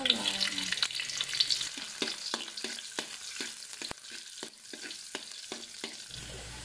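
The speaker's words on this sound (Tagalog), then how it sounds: "Nagigisa lang tayo ng sibuyas" Onion and garlic sautéing in a pan, with a steady close sizzle and regular stirring scrapes tapping through it, no voices.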